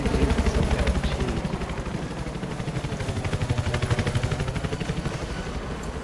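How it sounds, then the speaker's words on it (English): Sustained gunfire in Battlefield 4, shots aimed at a helicopter, with rapid repeated reports over a constant loud rumble of engine and battle noise. "that you firing at the helicopter?"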